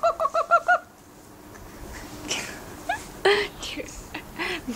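A person imitates a chicken with a quick burst of about five clucking, squawky vocal calls, followed by quieter background noise and a couple more short imitated squawks.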